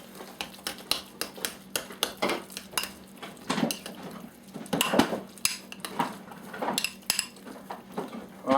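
A utensil scrapes and clinks against a bowl while mixing nacho ingredients with diced tomatoes, giving a steady run of close, irregular taps and scrapes with no talking.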